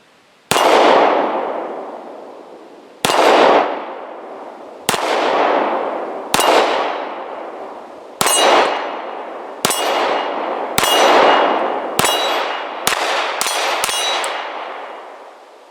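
A Jimenez JA 9 pistol fires a full magazine in about ten sharp, ringing shots. The first shots come a second or two apart and the last ones follow faster, each with a short metallic decay.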